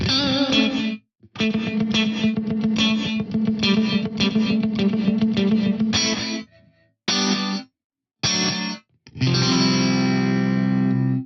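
Electric guitar chords played through the Kurzweil Rumour's Nonlinear Room 2 reverb preset, a dense, thick tail that stops abruptly instead of fading, with short silent gaps between phrases.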